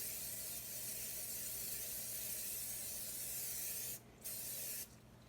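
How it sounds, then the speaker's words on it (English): A steady, loud hiss of an aerosol cooking spray sprayed into the bottom of a pan, held for about four seconds, then two short bursts, close up. "I am going to spray the bottom of the pan"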